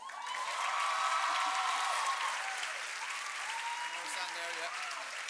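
A graduation ceremony audience applauds in a sustained wash of clapping with some cheering, while voices carry over the applause throughout.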